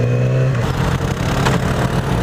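A passing vehicle with a loud muffler roars close by, a steady rumbling exhaust with a low engine drone that holds for about two seconds, with no voices.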